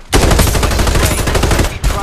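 Sustained automatic gunfire in the battle royale game Farlight 84, a loud, close, continuous rattle of rapid shots with a brief break near the end before firing resumes.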